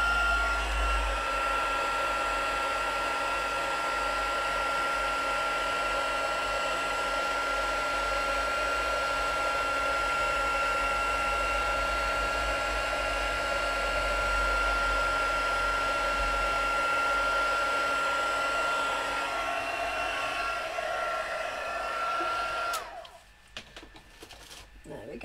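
A heat tool blows steadily while heat embossing a birthday card, a constant whirring roar with a faint whine that runs unbroken for over twenty seconds and then cuts off abruptly, leaving quiet room sound.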